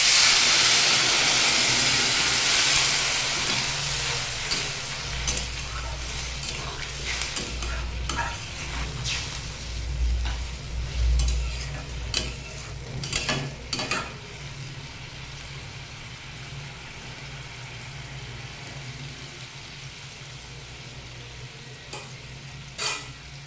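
Water poured into a pan of frying vegetables (papaya, potato and taro stolons) with oil and spices sets off a loud initial sizzle and hiss that settles into quieter bubbling and occasional stirring scrapes.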